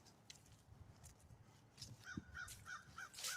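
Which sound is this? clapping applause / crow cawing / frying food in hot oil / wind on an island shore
crow cawing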